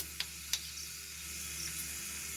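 Five-spice seeds and asafoetida frying in hot oil in a kadai for mini potato singara, a steady soft sizzle with two small crackling pops near the start, close and quiet with no talking.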